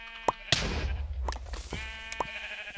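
Sheep bleat in a video game, several wavering calls spread across a few seconds, mixed with sharp game effect hits and a rumbling low blast underneath.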